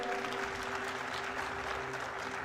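Steady, dense applause from a church congregation during a Pentecostal-style sermon, a continuous wash of many hands with no pauses.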